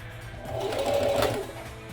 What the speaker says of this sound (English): I'm just gonna go ahead and stitch along the sides here